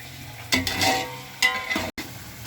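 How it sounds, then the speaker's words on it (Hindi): Tomatoes fry in masala in a pan, giving a continuous sizzle broken by several bursts of scraping and stirring from a spoon against the pan, heard up close. "अब इसमें हम टमाटर डाल रहे हैं। टमाटर को थोड़ा सॉफ्ट होने तक हमने इसको भूनना है।"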